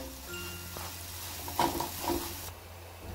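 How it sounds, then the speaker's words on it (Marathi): Semolina (rava) roasting in a pan as it is stirred, a quiet dry sizzle with a few light scraping and clinking strokes of a spoon against the pan, close and faint. "आता आपण ह्याच्यामध्येच रवा टाकून घेऊ आणि छान असा भाजून घ्यायचा, व्यवस्थित परतू द्यायचा"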